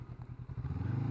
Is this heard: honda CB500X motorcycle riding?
yes